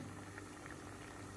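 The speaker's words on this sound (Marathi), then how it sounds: "छान उकळी आली." A thick green chickpea curry simmers at a gentle boil in a pot, giving a soft, steady bubbling hiss that stays even throughout, with no voices.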